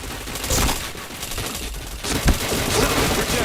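Rapid bursts of automatic gunfire in the online shooter Point Blank, loud and continuous with a brief lull before another heavy volley near the end.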